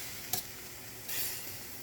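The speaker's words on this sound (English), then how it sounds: "In the pan, we got some onions that we chopped, some minced garlic on this side, and butter." Chopped onions, minced garlic and butter frying in a pan, giving a steady soft sizzle with a couple of brief sharp clicks of a utensil stirring, close and fairly quiet.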